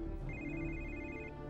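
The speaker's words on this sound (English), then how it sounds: "Must change the ringtone." A mobile phone ringtone plays a repeating electronic tone pattern, fairly faint over a low background hum, with no one speaking.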